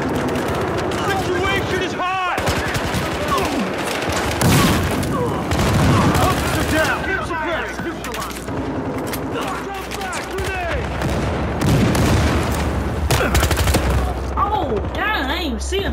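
Dense, loud gunfire from a Battlefield Hardline team deathmatch, with rapid automatic bursts and heavy booms layered continuously throughout, while a player talks over the shooting.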